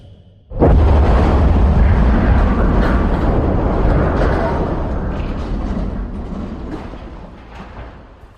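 A huge explosion over the city of Hiroshima from the atomic bomb: a sudden massive boom bursts in after a quiet moment, then a loud, deep rumbling roar slowly fades over several seconds.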